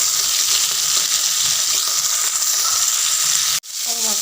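Small fish fry in a pan with ginger and salt, a loud, dense, continuous sizzle that cuts off sharply near the end before a faint resumption.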